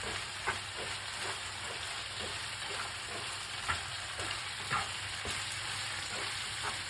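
Mushroom, celery and onion frying in a pan give a continuous even sizzle up close, broken by soft periodic scrapes and taps of stirring, with no voices.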